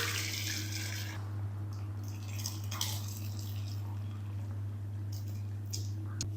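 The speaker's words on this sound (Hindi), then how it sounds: "पालक को ना हमने किसी भी जालीदार बर्तन में निकाल लेना है" Boiled spinach and its cooking water tipped into a mesh strainer give soft wet drips and squishy splashes over a constant low electrical hum, close by and with no talking.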